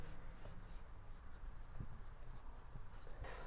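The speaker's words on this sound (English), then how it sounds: "We are going to label all the screws here with this marker." A marker pen scratches out labels on the aluminium shell of a mid 2009 MacBook, a soft continuous scribbling close to the microphone with small taps and pauses.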